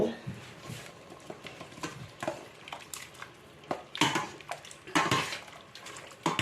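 Pork being blanched in a pot of water, with sloshing water and clinks of utensils against the pot coming in irregular bursts, close by and moderately loud.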